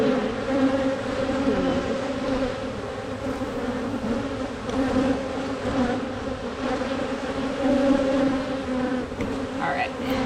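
Honey bees swarm around an open hive during an inspection, a dense, steady buzzing hum held close throughout with wavering pitch, while a person speaks softly in the background.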